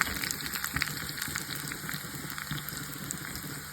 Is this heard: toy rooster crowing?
no